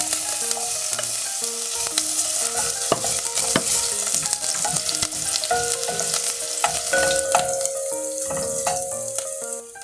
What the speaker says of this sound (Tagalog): painitin lang natin ang ating mantika, ang ating olive oil. Ayan mga kajuday, unahin natin yung ating luya, ang paggisa